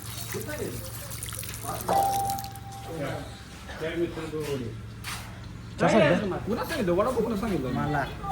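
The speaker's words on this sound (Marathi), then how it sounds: "हात धुतला नाही हात धुवून येतो" Water splashes and trickles as hands are washed, squishing and dripping sounds in bursts over a steady background hum, with people talking nearby.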